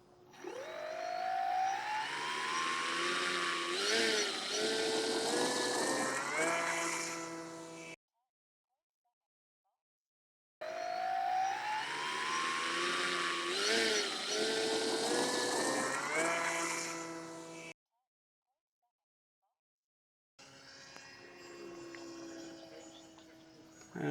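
Electric motor of a Sky Surfer X10 RC trainer plane whining up as it takes off outdoors in some wind, a sustained rising buzz that cuts out twice and returns, loud and close.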